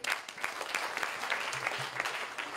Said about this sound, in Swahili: Basi tumpigie Bwana Kioni makofi.